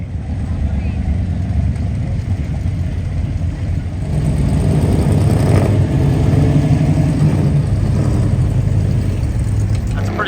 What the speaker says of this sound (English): kind of a beautiful thing to see all the old classics rolling through